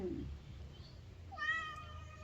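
A cat gives one clear, harmonic meow near the end of a quiet outdoor morning scene in front of a house, with low background rumble beforehand.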